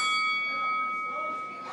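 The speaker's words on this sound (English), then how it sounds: "bell has rung." A bell rings to open the first round at a PWL Heatwave wrestling show, a sustained metallic ring with steady overtones that fades over about two seconds amid crowd murmur.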